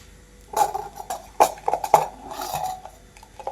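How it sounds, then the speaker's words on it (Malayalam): A spoon clinks and scrapes against a bowl as milk powder is stirred into boiling water for a Ramadan thari kanji, several sharp taps and clatters, close, without talk. "ഇത് തിളച്ച വെള്ളം ഇതിൽ ഒഴിച്ചിട്ട് നല്ലോണം മിക്സ് ആക്കി എടുക്കാം"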